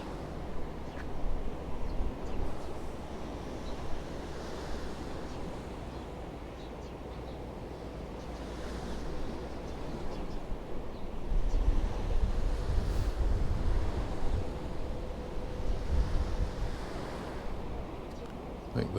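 Sea waves washing on the beach at Portals Nous, Mallorca, a steady broadband rush mixed with wind buffeting the microphone, swelling louder in the second half, no talk.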